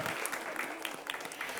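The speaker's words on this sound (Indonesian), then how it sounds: "Nggak apa-apa teman-teman, tepuk tangan dong." Studio audience applause on a televised school quiz show, a steady wash of clapping from many hands, moderately loud and continuous throughout the short stretch with no talk over it.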